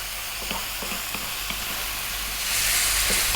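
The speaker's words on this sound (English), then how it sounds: "Let's go for another 3 minutes on this high heat, stirring all the time." Chicken fried rice stir-fried on high heat, a constant loud sizzle with rhythmic scrapes of stirring that swells into a stronger hiss near the end.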